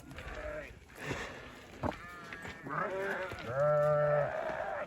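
Several sheep bleat close by, one after another, their wavering cries overlapping in a short burst of flock noise.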